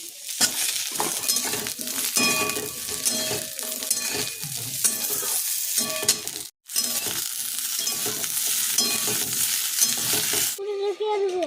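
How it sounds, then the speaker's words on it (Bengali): Drumsticks and potatoes tossed into a pan of lightly fried onions, a loud continuous sizzle and frying crackle with stirring scrapes for about eleven seconds, briefly cut near the middle, no speech. "তো তার মধ্যে আমি সজনের ডাঁটা আর আলুটা দিয়ে দিলাম।"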